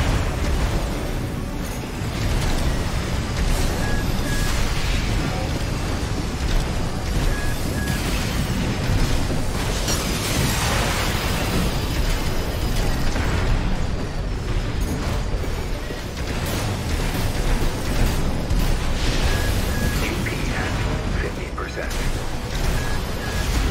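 An armored mech (AC) blowing up as it is destroyed in the video game Armored Core VI, a long loud roaring blast and rumble. Voices talk over it throughout.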